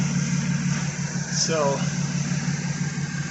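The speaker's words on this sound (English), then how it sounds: "I'm just doing a video of the exhaust." A repaired exhaust on an Audi B8 S4 idles with a steady low drone and a faint fan-like hum, while a person speaks a brief word over it.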